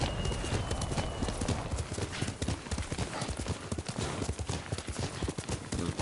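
Rapid, steady clip-clop of horse hooves in the video game Ghost of Tsushima, close and loud, with a brief whinny-like sound mixed in and no talking.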